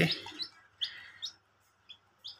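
Newly hatched chicken chicks give a series of short, high peeping chirps, about six spaced bursts, fairly close and soft against a quiet background.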